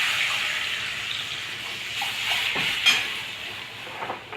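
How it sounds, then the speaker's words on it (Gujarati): Water poured into a cooking pot holding garlic while making gathiya curry, a soft, steady hissing gush lasting several seconds with a few faint clinks near the end and no talk. "પાણી નાખ્યું"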